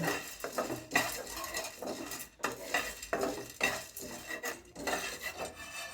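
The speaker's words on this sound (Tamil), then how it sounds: "அடுத்தது உடச்சக்கல்லையும் லைட்டாக வறுத்துக்கிறோம்" Roasted gram (pottukadalai) is lightly dry-roasted and stirred in a pan, with repeated scraping and clinking of a spoon against metal in irregular bursts under a faint sizzle.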